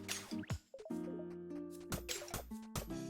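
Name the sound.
bottling water in Forager video game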